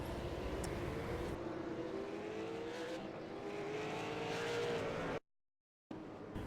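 Race car engine at Myrtle Beach Speedway during an off-season super series event, a loud buzzing drone as the car spins into the inside wall after hard braking, rising and falling before a brief dropout, then resuming.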